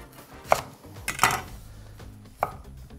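Knife chopping shallot on a cutting board for a tomato cream soup, three sharp, close chops spaced unevenly against quiet kitchen background.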